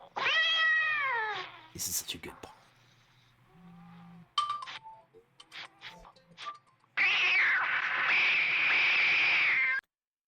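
A cat from a film fight scene with a snake yowls and meows in sharp, harmonic cries, ending in a long loud caterwaul, with someone speaking briefly between the cries.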